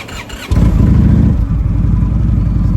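A motorcycle engine fires up after a brief quieter moment, then idles and revs with a loud, throbbing, pulsing rumble close by.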